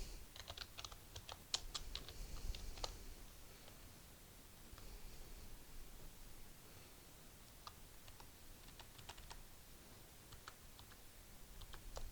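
Keystrokes on a computer keyboard as data is typed into a Microsoft Word table, with quiet irregular clicks and short bursts of taps over a soft steady background hiss, with no talking.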